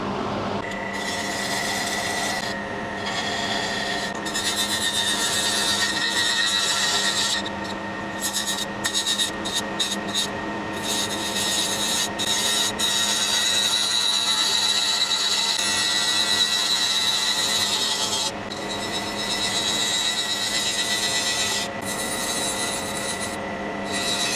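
A lathe turns a wooden lidded rice bowl while a tool cuts it down, giving a steady scraping, rasping whine with sustained tones and intermittent sharper scrapes over a constant motor hum.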